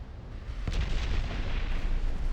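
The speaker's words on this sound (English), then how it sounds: "It just instantly exploded." A ship blows up in the naval game Ultimate Admiral Dreadnoughts: a dull boom rises out of a dense, steady rumble of battle noise that continues throughout.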